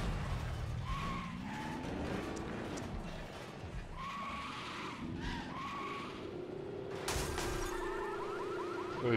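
A car in Watch Dogs: Legion driving with its engine revving and tires skidding and squealing in several sweeping bursts, fairly faint, with brief talk.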